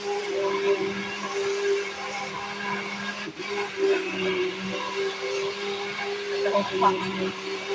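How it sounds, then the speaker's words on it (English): An immersion blender whirs steadily up close, puréeing poblano soup in a pot, its motor whine holding a constant pitch with slight wobbles as it churns. "it's technically an immersion blender"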